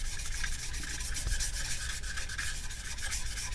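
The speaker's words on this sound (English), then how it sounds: "sanding it like this with 1200" Wet sanding a guitar's applied finish by hand with 1200-grit sandpaper and oil as lubricant, a steady close rubbing hiss with rhythmic back-and-forth strokes, continuous and alone.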